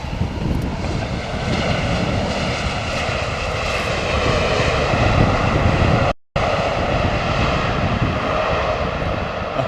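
Steady, loud roar of DC-10 airliner engines in intense rain, a continuous broadband drone with layered tonal bands, broken by one brief dropout near the end.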